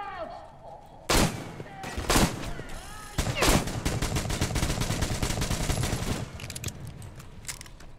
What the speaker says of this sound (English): Machine gun dia yang kita sama-sama pakai.